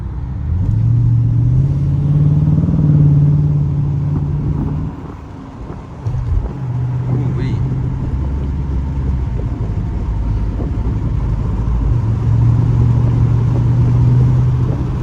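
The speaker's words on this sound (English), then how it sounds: "Let y'all hear that engine just good enough." A Dodge Charger engine idles with a deep, steady rumble close by on a dark road, pitch rising and falling slightly, with a brief dip in the middle.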